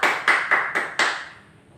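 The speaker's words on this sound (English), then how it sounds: "let us clap our hands for group 2" A class claps hands: five sharp claps in an even rhythm, close by, fading quickly at the end.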